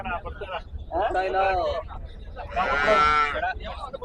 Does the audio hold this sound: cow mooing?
yes